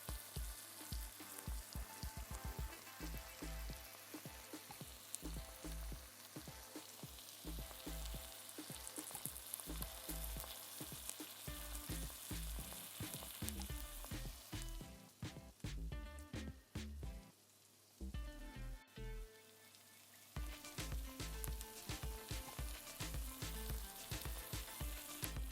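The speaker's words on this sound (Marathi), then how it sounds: "पुन्हा परतून घेऊ." Spring onion bhaji with crushed peanuts stir-frying in a pan: a dense, continuous sizzle runs throughout, with rhythmic stirring clatter and occasional brief pauses, close and steady, without talk.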